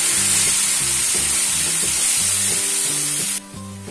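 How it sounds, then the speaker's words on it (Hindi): Masala spices hit fried onions in a pan for broccoli sabji, giving a loud, steady sizzle and frying hiss throughout, with quieter tonal background music beneath that dips near the end. "तो हम ये मसाला डाल देंगे इसके अंदर।"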